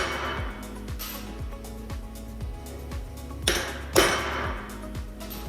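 A hammer drives number stamps into a steel welding test plate in a steady run of metallic taps, with two heavier blows toward the end.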